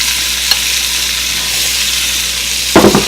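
Aromatics sizzle in a pan of butter and olive oil with a loud, constant hiss, one faint knock early on and a brief burst of scraping as they get stirred near the end.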